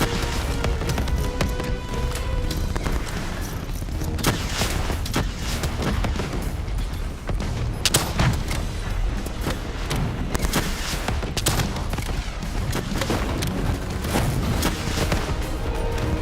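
Sustained gunfire and explosions from a Call of Duty: Black Ops III campaign battle, with dense rapid shots, sharp bangs and booms layered continuously and loudly throughout.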